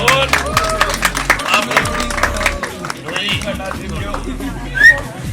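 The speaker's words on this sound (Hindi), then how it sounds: "जोरदार तालियों से स्वागत।" Guests at a Hindu wedding applaud the couple during the seven-steps ritual, scattered claps rattling through a lively crowd with voices and a brief whistle-like call near the end.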